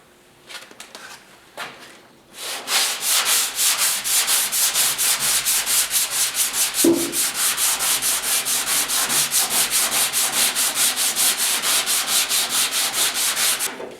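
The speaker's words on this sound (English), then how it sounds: "I'm just going to hit that with my sander with 320" Power sander with 320-grit paper working over the hood of a 1956 Ford pickup, a continuous loud close-up whirring rasp that starts after a couple of brief faint taps and runs steadily to the end.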